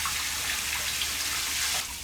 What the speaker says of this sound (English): When it glows in the fire, I quench it with cold water.